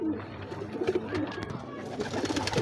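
A breeding pair of Neelay Kamagar pigeons gives soft, low, repeated coos close by in a loft, with faint background murmur and no clear speech.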